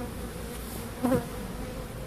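A steady buzzing drone comes from Caucasian and Carniolan honeybees pouring out of their hive, close and continuous, with a brief louder rise midway.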